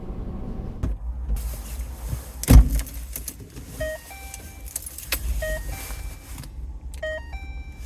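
Someone getting out of a car in a garage, with keys jangling, a door handled and a few clunks, plus a sharp nearby knock and repeated electronic chime tones over a low vehicle rumble, no talking.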